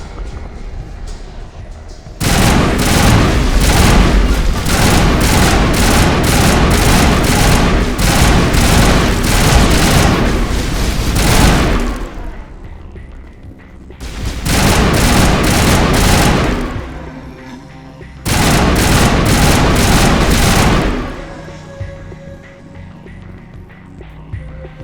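Heavy gunfire and explosive blasts in Mass Effect combat on a planet in the Attican Beta cluster, coming in three loud sustained bursts of rapid rattling shots with booming impacts, separated by short quieter gaps.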